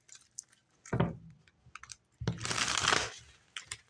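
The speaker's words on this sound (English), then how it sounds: "Do one more shuffle." Tarot cards are shuffled in two close bursts, a short riffle and then a longer rustling flurry, surrounded by faint clicks and small handling sounds, with no speech.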